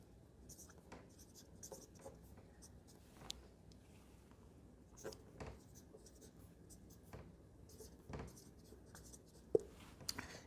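Pen or marker writing physics numericals by hand, faint scratchy strokes and soft taps in irregular bursts, close but quiet, with a low background hum.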